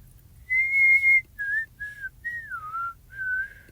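A person whistles the opening melody of the song "Don't Worry, Be Happy", clear and close, with one long held note followed by several shorter sliding phrases, alone with no other sound.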